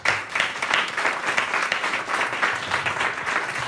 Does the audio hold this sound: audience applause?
yes